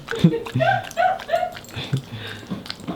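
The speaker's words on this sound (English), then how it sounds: "It's like we've never fed these dogs before." Dogs eating peanut butter whimper excitedly in repeated short, close whines and yips, bursting in quick succession between quieter moments.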